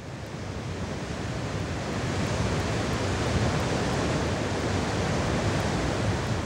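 Ocean waves washing onto a beach make a steady, broad roar of surf that holds nearly constant, with little rise and fall and no voices.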